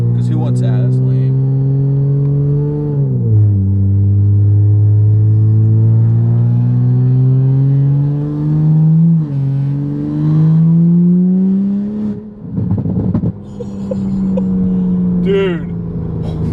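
A tuned 2020 Toyota Supra with an E50 tune revs hard and loud, its engine note climbing steadily through gears with shifts around mid-pull, continuous and close, with people talking and exclaiming over it.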